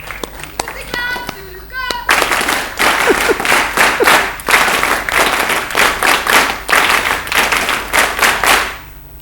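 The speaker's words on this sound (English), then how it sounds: "we have to clap for her again" An audience applauds a candidate during an SSB psychology testing session, with dense clapping running steadily for several seconds after a few children's voices and brief talk at the start.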